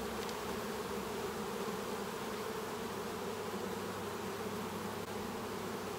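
Honey bees flying around an open hive, a dense steady buzzing drone close by that holds evenly throughout, with no voices.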